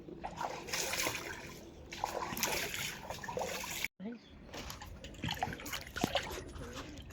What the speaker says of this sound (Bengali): এই যে মাছ ধুইতে আছে, মাছ ধুই তারপর রান্না করতে চলে যাবো।